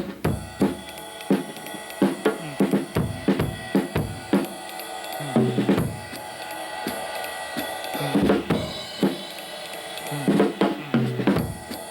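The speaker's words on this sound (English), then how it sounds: "Just a swing beat, using that beat that I just played for you and counted out, sounds like this" On a drum set, a loose swing beat rolls along with ride-style cymbal and snare hits, interrupted by irregular snare and bass drum accents, played loud and close with no talking.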